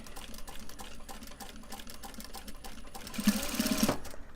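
A sewing machine back stitching through Japanese fabric for a phone purse, its steady mechanical whir running throughout and rising louder and busier near the end, with no talking.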